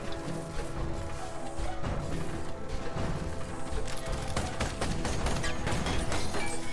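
Gunfire from a coolant-powered mech gun in the video game Ironcast, a dense, continuous stretch of metallic impacts, crashes and clanking bursts at steady loudness throughout, with no talk.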